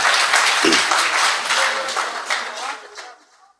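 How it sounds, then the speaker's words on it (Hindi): Audience applause at an All India Mushaira poetry gathering: a burst of loud clapping from a crowd, holding strong for a few seconds before tapering off and dying away into near silence. "एक बार जोरदार तालियों से उनका इस्तकबाल करें।"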